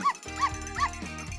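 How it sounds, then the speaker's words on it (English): A puppy in the Trolls Band Together video game barks three times in a quick, evenly spaced series of high, bright yips, each short and up close. "Puppy, where did you come from?"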